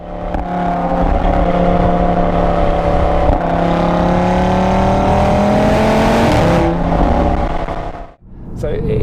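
An Audi RS3 with a five-cylinder engine and sports exhaust roars through tunnels in Italy, a loud sustained rising drone with echoing reverberation that builds and then cuts off near the end, recorded from outside.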